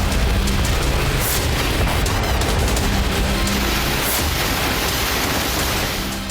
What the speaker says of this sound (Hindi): एक के बाद एक कई स्टॉर्म शैडो मिसाइलें दागी गई, जिससे कई धमाके हुए